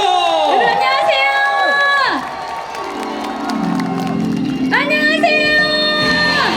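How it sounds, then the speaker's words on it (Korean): An outdoor crowd at a rainy seaside festival concert cheers and shouts with high whoops, loud and close, while people in the crowd call out over the noise. "박수 부탁드립니다."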